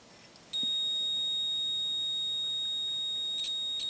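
A breaker points tester emits a steady high electronic beep during ignition timing on an old rusty engine under rebuild; after a short quiet start the tone holds loud and unbroken, then briefly flickers near the end.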